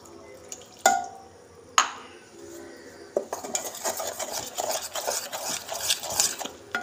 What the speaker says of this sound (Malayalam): ഇളക്കിക്കൊണ്ടേ ഇരിക്കണം